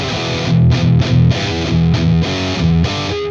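A heavily distorted electric guitar runs through the STL Tonality amp plugin on its default Standard Heavy 2 setting. It plays a loud, chugging riff of short palm-muted bursts and sustained chords, with no talk.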